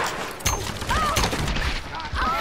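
Explosions and gunfire bursts in the Tomb Raider video game, several sharp blasts in quick succession, loud and close, mixed with other game effects.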